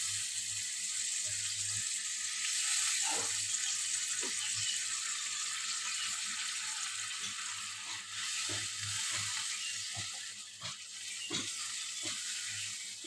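Pangas fish curry gravy simmers in a pan, giving a soft, steady hissing sizzle broken by scattered small pops and bubbles, quiet and close, with no one talking.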